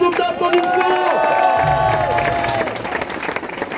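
An audience applauding and cheering at the finish of the Naturman 2016, loud and close, with whoops and children's voices over the continuous clapping and voices mixed into the crowd noise.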